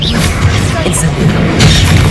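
A fire spell cast in Hogwarts Legacy lands as a loud burst with a booming, crashing impact, set among continuous combat clamor and a voice speaking over it.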